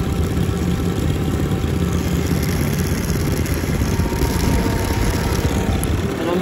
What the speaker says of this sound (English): Go ahead and turn the compactor on.